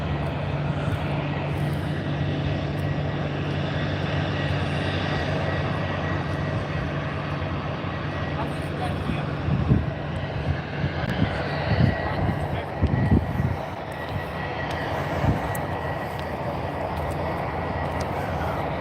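A Dash Q400 turboprop airliner at Aberdeen Airport, a loud steady engine drone that carries on throughout, with voices and some handling bumps in the second half.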